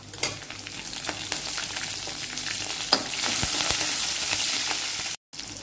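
Green chilies frying in hot oil with mustard seeds, ginger and garlic, a steady close sizzle with scattered pops and crackles, briefly cut near the end.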